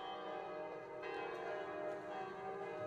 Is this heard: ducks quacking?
no